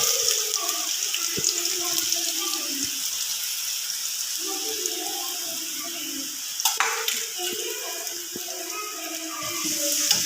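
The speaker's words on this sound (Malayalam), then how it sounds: "നമ്മുടെ എണ്ണ ചൂടായിട്ടുണ്ട്. അതിലോട്ട് ഈ അരിഞ്ഞ് വെച്ചിരുന്ന ഇഞ്ചി ഇട്ട് കൊടുക്കുക." Chopped ginger frying in hot oil for a Kerala ginger curry makes a steady close hiss and bubbling sizzle that runs throughout, with a few small clicks and pops.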